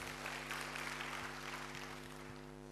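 A church congregation claps together in sustained applause, a dense wash of hands filling the room evenly, with a steady electrical hum running underneath.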